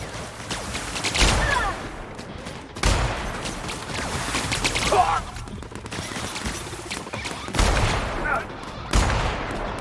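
Rifle gunfire in the video game The Outer Worlds, with loud bursts of shots repeating every couple of seconds over a busy combat soundscape.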